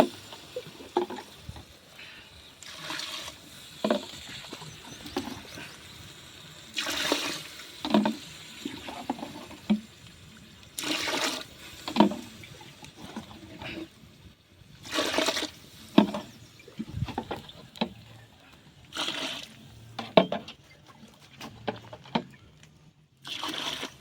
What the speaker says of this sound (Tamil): தேவையான அளவு தண்ணி ஊற்றிக்கலாம் நண்பர்களே